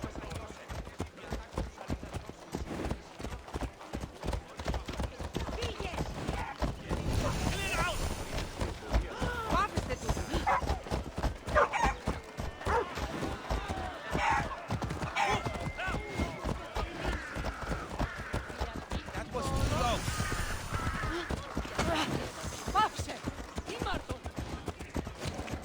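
Horses gallop in Assassin's Creed Odyssey, a steady drumming of hooves running through the whole stretch under game music and characters' voices.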